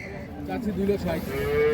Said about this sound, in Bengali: আট দাঁতের গাভী